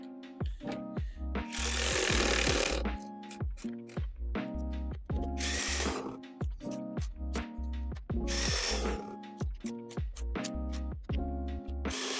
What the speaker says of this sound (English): let's go through and tighten them up